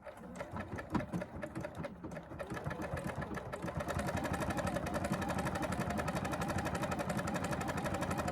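A sewing machine stitches batik canvas for a Tamarack jacket. It starts with a few uneven bursts, then settles into a steady, fast, close mechanical chatter.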